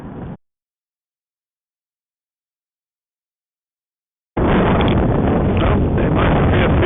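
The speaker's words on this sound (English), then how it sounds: "it's bloody windy" Strong wind buffets the microphone in a loud, continuous roar, preceded by a brief gust and a silent gap.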